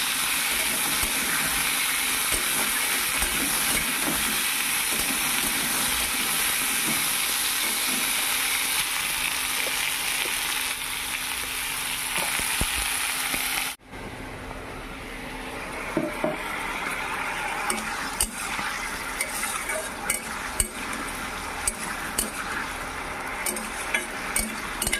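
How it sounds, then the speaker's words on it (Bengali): Potatoes fry in a pan with a continuous broad sizzle that runs throughout, briefly cut by a sharp break midway before resuming with scattered clicks and small pops, and no one speaks. "এখন আলুগুলি ভালো করে ভেজে"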